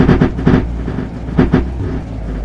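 A Roblox video game train approaches a station platform, with rhythmic low rumbling thumps of wheels clattering in pairs, close and moderately loud, with no voices.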